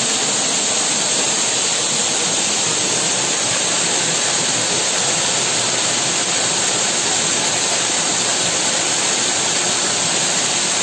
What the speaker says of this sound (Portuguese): Aqui é a cachoeira de Pichar, parque ecológico, viu?